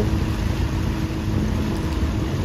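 A boat's engine runs steadily on open water, a close, even, unbroken drone with no talking over it.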